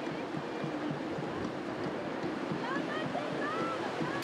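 Sea waves wash onto the beach at Les Sables-d'Olonne in Vendée as outrigger canoes launch, a steady broad surf roar with wind, while a person talks over it.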